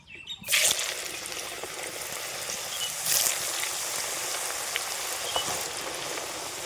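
Potato chips fry in oil over low heat, a soft continuous sizzle with light crackles and a small splash near the start.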